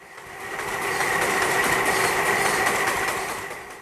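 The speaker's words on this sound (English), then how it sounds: "the bamboo is then fed into a machine where it is cut into rough chopstick shapes" A machine cuts bamboo into rough chopstick blanks with a steady, loud mechanical whirr and hum that swells in and holds with a faint rapid rattle.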